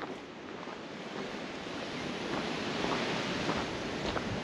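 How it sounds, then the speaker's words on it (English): Steady wind rushes and buffets the microphone throughout at Oropendola Waterfall in Costa Rica, a constant broad roar with no voices. "It's windy up here, but it's a cool wind."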